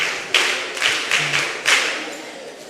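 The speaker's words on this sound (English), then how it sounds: "Please give her a round of applause" A few people in a mentorship session audience clap briefly for a participant, sparse, separate claps in a short uneven run at moderate distance, fading out.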